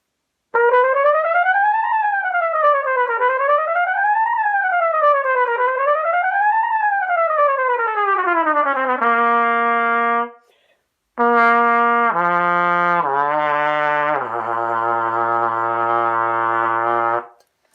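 A piccolo trumpet plays smooth rising and falling slurs, then sustained stepped notes climbing up to high C and descending, bright, loud and close with no talking.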